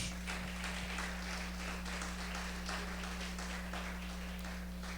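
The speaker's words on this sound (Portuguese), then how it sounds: "Pode aplaudir ao Senhor por isso." Church congregation applauding at a Portuguese-language worship service, steady sustained clapping over a constant low hum.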